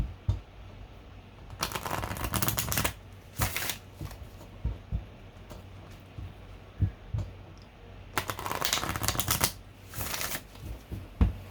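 Tarot cards are shuffled in several bursts of riffling and flicking, close up, with soft taps and pauses between rounds.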